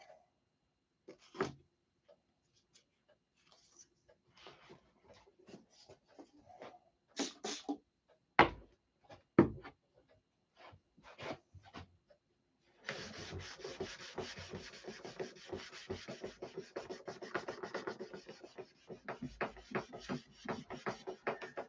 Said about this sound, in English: So we need to sand that spot there.